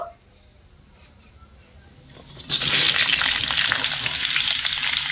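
Sliced raw mango drops into oil seasoned with panch phoron, bay leaf and dry chili, a quiet start followed by a sudden loud, sustained sizzle close by.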